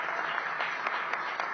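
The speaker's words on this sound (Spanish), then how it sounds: "El aplauso entonces, le agradecemos." Audience applause after a conference talk, a short burst of steady clapping from a seated crowd in a hall, fairly close and even.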